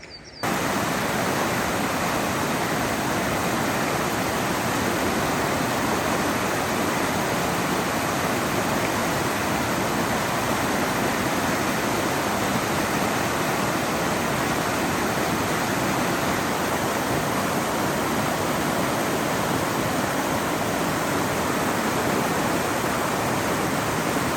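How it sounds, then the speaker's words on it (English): Creek runoff pours steadily into Kachess Lake in Washington, a constant loud rushing wash of water that fills the whole stretch without pause. "Little side estuary creek runoff into the main lake, beautiful Kachess Lake."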